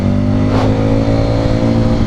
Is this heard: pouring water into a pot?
no